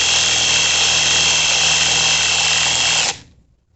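An ENZT 600 Nm cordless impact wrench runs at a steady high whine for about three seconds, loud and close, then stops abruptly and fades.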